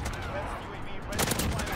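Gunfire in the shooter game Modern Warfare, a steady burst of rapid automatic shots with a louder flurry near the end, brief and close.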